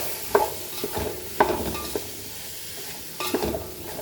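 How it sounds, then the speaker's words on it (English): A gobi chilli mixture with cauliflower is stirred in a pan, with several distinct scraping, clanking strokes of a spoon over a low, constant sizzle. "Mix this thoroughly"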